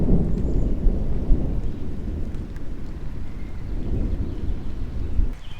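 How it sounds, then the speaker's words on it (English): A thunderstorm with steady rain during an outdoor fishing trip, a continuous low rumble of thunder rolling beneath the patter of rain throughout, moderately loud and with no voices. "Rain's starting to come back again."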